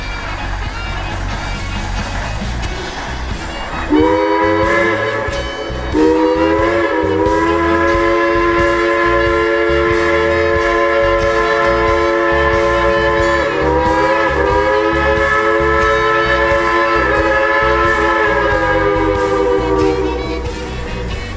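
A steam train makes a run-by at the Y on the Cass Scenic Railroad in Cass, West Virginia, during a rail fan weekend: long, loud, multi-tone whistle blasts over a continuous rolling rumble and rhythmic chuffing.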